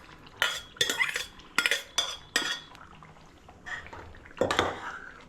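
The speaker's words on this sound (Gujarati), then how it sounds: "હવે બધું ધીમે ધીમે મિક્સ કરી દઈશું." A spoon stirs mashed pav bhaji vegetables into a spiced gravy in a metal pan, giving a series of distinct scraping clatters and metallic knocks in an uneven rhythm, close and fairly clear, with no talking.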